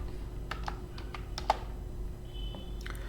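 Quiet computer keyboard typing of a terminal command: a handful of separate, crisp key clicks spaced irregularly over a low hum, with one sharper tap in the middle.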